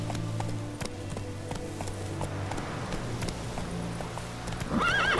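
A horse in The Witcher 3 gallops with steady rapid hoofbeats under a constant ambient game soundscape, ending with a whinny near the close; no talking is heard.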